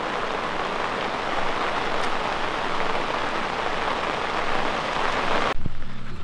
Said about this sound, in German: Zuerst sengende Hitze und Sonnenschein und innerhalb von 5 Minuten haben wir übelsten Starkregen.